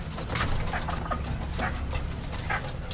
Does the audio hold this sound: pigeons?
yes